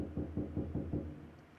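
In a slasher horror video game, five evenly spaced knocks on a door sound out, muffled and dull, before going quiet.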